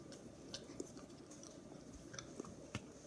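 Crunchy chewing of a Nutella Krunch snack, soft close mouth noises with scattered small crisp clicks over a few seconds, no talking.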